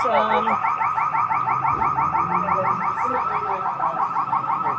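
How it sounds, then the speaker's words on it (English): A car alarm blares in a store parking lot, a loud, rapidly warbling electronic tone repeating steadily and close by, with faint background voices beneath it. "I can't get the alarm off."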